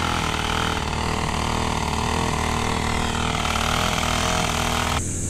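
A sputtering engine runs loud and close, a continuous rough drone with uneven pulses throughout, shifting to a brighter hiss in the final moments.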